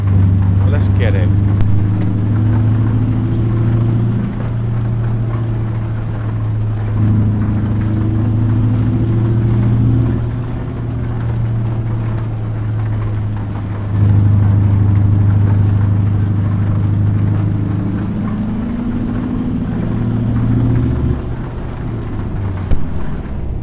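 A truck engine in American Truck Simulator drones steadily and loud, rising and falling as it revs through gears, with a person talking over it throughout.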